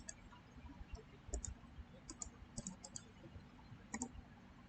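Scattered sharp computer mouse clicks, some in quick doubles, heard faintly over a low steady room hum with no talking.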